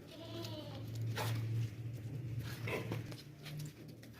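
Goats at a livestock sale bleat in a few short, wavering calls, close by, over low background rumble and a faint hum.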